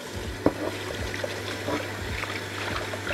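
Water trickles and splashes steadily as rice and lentils are washed together in a pot in a village kitchen, a close, light pouring with small irregular splashes and a low hum beneath.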